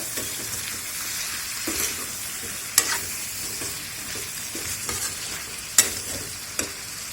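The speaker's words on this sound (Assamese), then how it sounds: "এইখিনি এতিয়া লৰাই ল'ম।" Meat and potatoes fry in a pan, a steady close sizzle broken by repeated stirring scrapes and a few sharp clinks of the utensil against the pan, with no talking.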